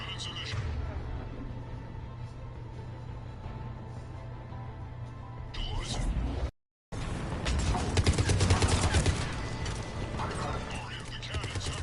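Mass Effect 3 battle on Omega: mechanical clanking and rapid bursts of cannon and gunfire, starting as a steady rumble, then a brief dropout, followed by denser, louder volleys of shots over the game's ambient hum, with voices talking.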